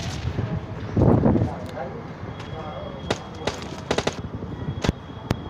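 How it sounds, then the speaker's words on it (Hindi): Several sharp gunshots crack out in a PUBG Mobile Lite match, scattered irregularly after a louder thump, over a low game-ambience bed with faint background sound. "तभी गाइस मुझे पीछे से कुछ शॉट्स आते हैं"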